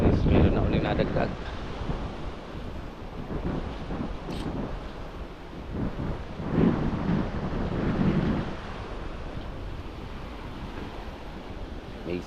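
Gusty wind along a river in the aftermath of Typhoon Carina buffets the microphone in steady rushing waves, with brief faint voices in between.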